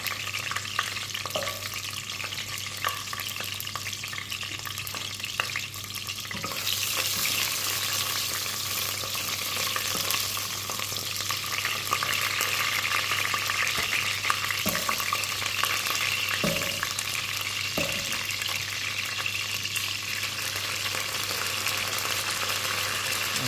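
Garlic sizzles and crackles steadily in hot sesame oil, a constant frying hiss with occasional clinks of stirring, close and unbroken.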